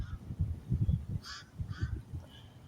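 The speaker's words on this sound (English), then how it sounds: "I'm going to end this video looking at the birds flying over" Birds flying overhead at sunset in Africa, giving a few loud nasal honks in short bursts, over a low murmur of background activity.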